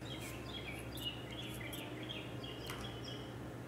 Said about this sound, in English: There's like a crazy bird outside.